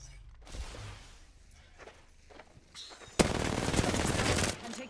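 A sustained burst of automatic gunfire in the video game Apex Legends, loud and continuous for over a second after quieter in-game sounds and faint shots.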